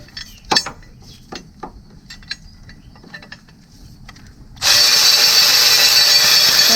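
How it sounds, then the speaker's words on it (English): A Milwaukee power tool with an 18 mm socket loosening a bolt on a 2014 Acadia 3.6L engine, heard as a loud sustained ratcheting whir that starts abruptly after a few quiet clinks and taps of handling. "use my Milwaukee with an 18 millimeter"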